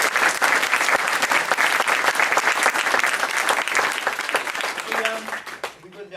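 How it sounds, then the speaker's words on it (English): A theatre audience gives dense, sustained applause at a school production of The Government Inspector. The clapping stays loud and continuous for several seconds, then thins out and fades near the end. "took the applause as well."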